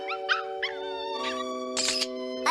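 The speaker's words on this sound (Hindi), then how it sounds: "अभी मैंने एक डॉग की आवाज सुनी" A dog howls and whimpers close by, with long wavering cries broken by a few higher yelps.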